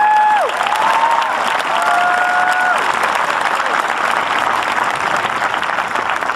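An indoor crowd gives sustained, loud applause at a high school graduation ceremony, with a few scattered cheers and faint voices under the clapping.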